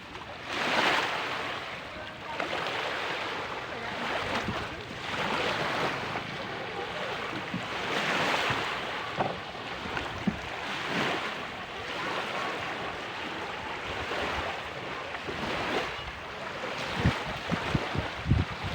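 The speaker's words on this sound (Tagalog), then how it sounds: "Andito kami sa dagat!" Sea waves wash onto a beach where fishing boats are moored, rising and falling in steady broad surges with wind buffeting the microphone throughout.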